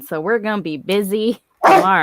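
A dog lets out a few sharp barks and yips near the end, close by, just after a person speaks.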